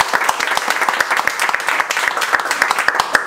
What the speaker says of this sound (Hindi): बस जोरदार ताली बजाओ।